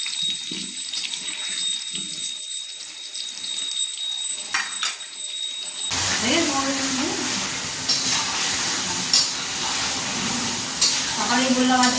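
Sliced onions fry in hot oil for chicken biryani, a steady close sizzle that suddenly swells louder partway through, with faint stirring clinks.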